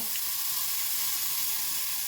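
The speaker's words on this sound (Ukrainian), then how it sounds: "І все ретельно перемішую" Bean soup with sour cream sizzling and frying gently in a pan while being stirred; a soft, steady hiss, faint and close, with no voices.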